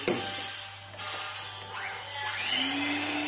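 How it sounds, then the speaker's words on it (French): An electric mixer runs steadily at close range, whirring and rattling as it whips egg whites to stiff peaks in a bowl, with its pitch rising near the end as the speed changes. "Et pour ça, il nous faut le batteur électrique."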